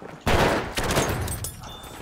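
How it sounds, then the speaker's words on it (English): Shotgun blasts in Battlefield 1 Conquest on the Ballroom Blitz map, with a trench gun firing: a sudden loud boom followed by dense battlefield gunfire and a second sharp report, all close and continuous. "My shotgun wins."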